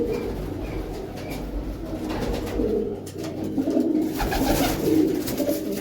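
Old-breed pigeons coo steadily and close by, with several soft, throaty calls overlapping in a continuous low murmur across the whole stretch.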